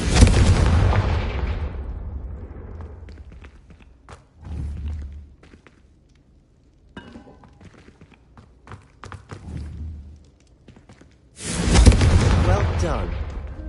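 Fiery spell explosions from Confringo in Hogwarts Legacy, a loud burst at the start and another near the end, with quieter thuds and footsteps in between while voices talk.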